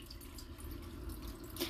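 Water is poured into a still-thick sauce for meat and eggplant borek, a soft steady trickle over a low hum with a brief brighter splash near the end.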